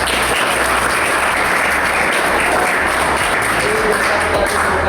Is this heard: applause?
yes